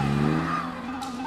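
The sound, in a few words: car pulling out and driving off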